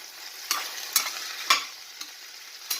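Long beans are stirred in a pan over a soft sizzle, with five or six distinct scraping strokes spaced about half a second apart, close and fairly loud.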